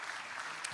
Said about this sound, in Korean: 하나님 앞에 다시 한번 영광의 박수를 올리겠습니다